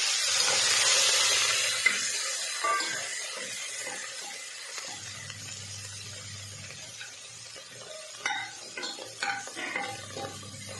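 Garlic, ginger and chopped coriander sautéing in a hot oil tempering for a Gujarati radish dhokli dish, a steady sizzle and hiss with scraping spoon stirs and clinks growing more frequent toward the end, no talk.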